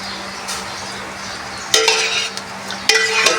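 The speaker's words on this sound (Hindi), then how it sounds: "इसमें मैंने घी डालना है" Ghee goes into a pot of jaggery rice, setting off two sudden bursts of hissing sizzle. Quieter stirring and light clinks of utensil against pot run before and between them.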